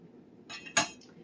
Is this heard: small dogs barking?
no